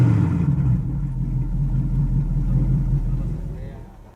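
A restored Dodge GTX V8 runs with an open exhaust and no muffler, giving a steady, loud, deep rumble close by for several seconds before fading at the end.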